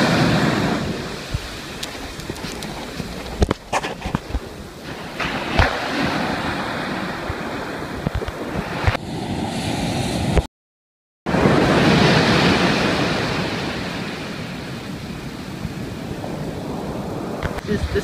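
Ocean waves rolling in at the Gold Coast surf break, a continuous loud wash of surf with gusty wind buffeting the microphone and a brief dropout midway.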